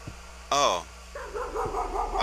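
A dog in the horror game Layers of Fear gives a single loud, close bark, followed by softer whimpering, with a faint hum and a voice talking underneath.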